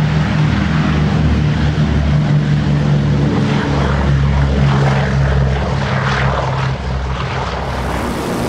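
A Boeing B-17 bomber's propeller engines drone steadily and loudly in flight, a dense continuous roar with a low throbbing hum and no talk.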